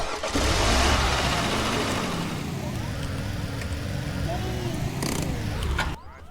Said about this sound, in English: Well, I got the car running, so let's go.